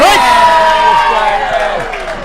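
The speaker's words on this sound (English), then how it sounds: "And the crowd goes wild." A crowd cheers and shouts loudly right after a strike at a ladies' bowling match, sustained whoops and voices holding steady before easing slightly.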